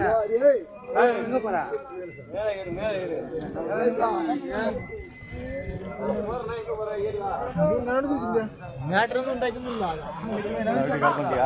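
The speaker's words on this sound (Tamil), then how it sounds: "மக்கள் ஃபுல்லாக கூட்டத்திலே வந்துருச்சு" A dense crowd of worshippers chatters loudly at the entrance of the Kalaikatti Shiva temple, with many overlapping voices close and near, continuous throughout, and faint clinks of metal mixed in.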